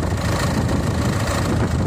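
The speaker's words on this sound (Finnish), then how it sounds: "Kuulostaa ihan terveeltä tää kone." A Citroën C5 engine idles after winter storage, a steady, even mechanical hum with a faint vibrating texture, heard close and without voices.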